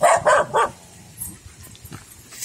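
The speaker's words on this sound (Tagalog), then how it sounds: "O may aso." A dog on a farm near a bitter melon plot barks three times in quick succession, loud and close, then a quieter stretch follows with only faint background sounds.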